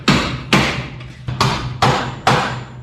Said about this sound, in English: Let's see your hammering device.